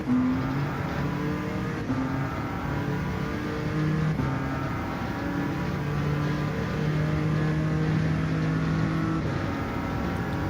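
Race car engine in Gran Turismo 7 during a Circuit Experience run, droning steadily and revving up and down through gears for the whole stretch, loud and continuous with no voices.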